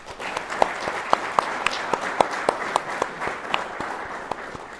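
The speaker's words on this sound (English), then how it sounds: "please give the guest of 1171 a round of applause" Graduation ceremony audience applauding with steady, dense clapping, sharp individual claps standing out near the microphone over a broad crowd wash throughout.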